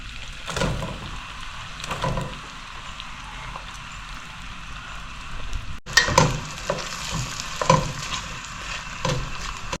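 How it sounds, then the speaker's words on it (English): Onion frying in butter and ghee with cumin seeds for vegetable biryani, a soft continuous sizzle with occasional stirring scrapes, fairly close and steady. "Fry here in the butter and the ghee."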